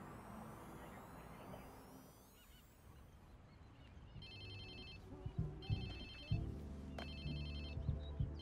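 A phone ringtone chirps in repeated bursts in the video game Watch Dogs 2, set in San Francisco, over a hissing ambient bed and thumping game sounds, fairly faint.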